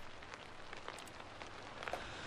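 Steady rainfall in the video game Sniper Ghost Warrior 3, a dense, even hiss of drops pattering on surfaces throughout, with a few brighter splashy ticks near the end and no talk.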